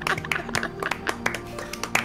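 Several people clap during a Pummel Party game, giving a short, uneven patter of hand claps with scattered louder slaps, heard close up over faint background game sound.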